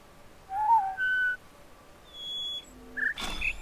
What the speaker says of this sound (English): It was like a really fast whistle.